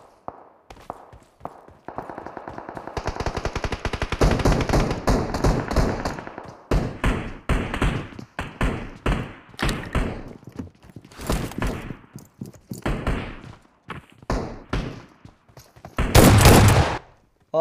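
An Uzi fires in the BGMI battle royale game: a long, dense burst of rapid automatic fire, then a run of separate sharp shots and thuds, ending in a loud final burst.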